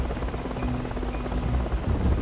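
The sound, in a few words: cartoon helicopter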